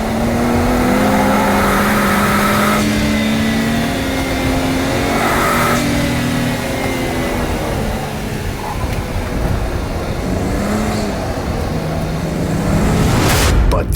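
A BMW E30 325is car accelerating hard down a race track's back straight, its engine note climbing steadily through the gears, loud and close, with a sustained droning roar and brief shifts in pitch.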